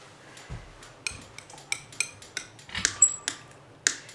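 Palette knife scraping and tapping paint across a palette, a series of sharp clicks and short metallic scrapes at an irregular, quickening rhythm, close and fairly quiet.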